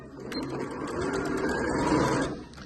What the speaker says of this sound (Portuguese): vamos fazer junto, então, essa última costurinha do babado aqui